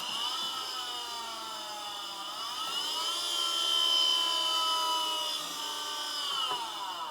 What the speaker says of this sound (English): And now I am going to drill these holes.